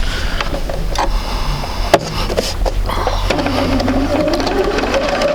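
A sewing machine stitches quilt blocks in rapid, continuous mechanical whirring bursts, steady and close, with a sharp knock partway through.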